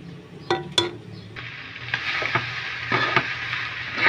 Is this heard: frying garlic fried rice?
yes